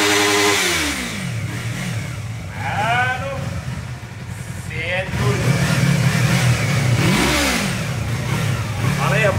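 Yamaha MT-03 motorcycle engine warming up and revving, steady loud engine tone with rising and falling rev sweeps, while people talk over it.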